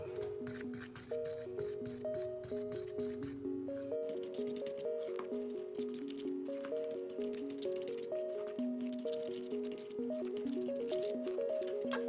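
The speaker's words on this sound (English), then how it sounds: "I'm gonna go ahead and start mixing" Snowball cookie dough with two tablespoons of water added is stirred by hand, giving faint, rhythmic squishing and scraping strokes beneath steady background music.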